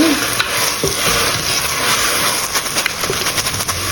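Curry leaves and an oyster mushroom curry base sautéing in a pan for a Sri Lankan-style curry, giving a continuous close sizzle with occasional stirring scrapes throughout.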